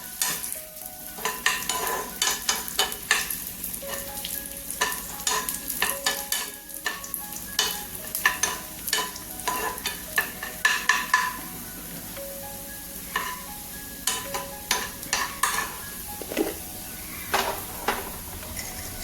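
Raisins sizzle in hot ghee while a spoon stirs and scrapes around the pan in repeated bursts, close up with no talking.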